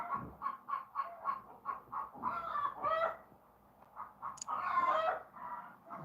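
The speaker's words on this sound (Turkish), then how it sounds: "Tavuklar kafayı yedi." Chickens cluck agitatedly in a rapid, rhythmic series of close calls, breaking into louder squawking bursts, with a short lull in between.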